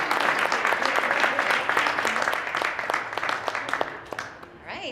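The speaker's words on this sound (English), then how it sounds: "Let's hear a round of applause for Propra," An audience at a startup pitch night claps in a dense, sustained round of applause that tapers off toward the end, with a voice faintly present underneath.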